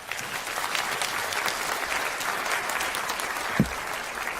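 Steady, dense applause from a conference audience at an AI privacy assembly in Seoul, clapping for panelists as they return to their seats, continuous and fairly close throughout with one brief low thump near the end.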